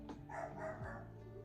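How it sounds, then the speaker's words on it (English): Dogs bark and yip in the background indoors, a few faint, short bursts at a distance. "Oh, these dogs are going crazy."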